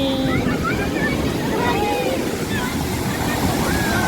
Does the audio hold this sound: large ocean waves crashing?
yes